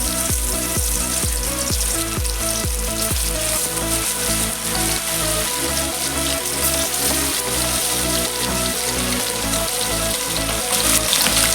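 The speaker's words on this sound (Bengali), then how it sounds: "মাখিয়ে নেওয়া মাছটা আমি এবার ভাজতে দেবো।" Bhola fish fries in hot mustard oil in a pan, a loud, continuous crackling sizzle with dense spattering pops throughout and low thumps near the start.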